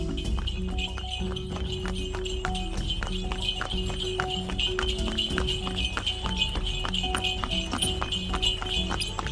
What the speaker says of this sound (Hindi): अपना तांगा चलाना शुरू कर देता है